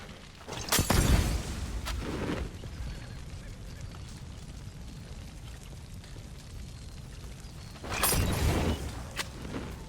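A fire bottle shatters in Red Dead Redemption 2, a loud glassy burst near the start with a whooshing flare, a quieter stretch of crackling fire, then a second loud burst with flames near the end.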